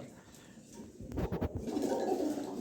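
A pair of racing pigeons coos with low, throaty, rhythmic calls that swell near the middle and continue steadily against a faint background hum.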